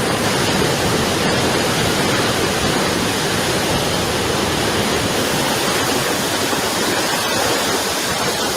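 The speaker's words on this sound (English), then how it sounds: "And then he films a water main break." Water gushing from a broken water main in a street, a loud, steady rushing roar that holds without a break and is heard alone, with no voices.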